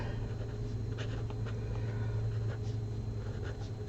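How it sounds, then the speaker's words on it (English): A gel pen writing the word crafting on paper, faint scratchy strokes over a steady low hum of background noise, no voices. "let's write crafting"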